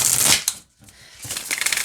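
A deck of Elder Scrolls V Skyrim tarot cards is shuffled up close, giving a dense papery riffle, a short pause, then a second flurry of crisp card flicks.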